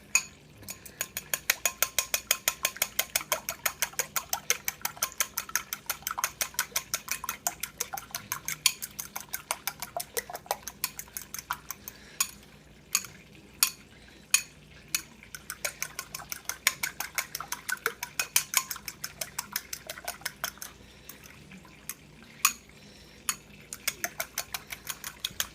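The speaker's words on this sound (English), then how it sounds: "So I'm going to scramble this egg real fast." A fork whisks a single egg in a bowl, making fast, rhythmic clinks and taps against the sides in a long, steady run with brief pauses, close and fairly quiet, with no voices.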